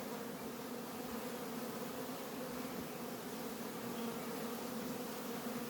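Honeybees buzz at an open hive during summer mite treatment, a dense, steady hum of many bees close by, continuous and even throughout with no voices.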